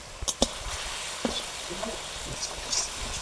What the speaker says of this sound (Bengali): সামান্য একটু জল দিয়ে মশলাটা কষে নিই।